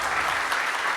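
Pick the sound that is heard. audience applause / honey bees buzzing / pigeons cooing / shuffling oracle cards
audience applause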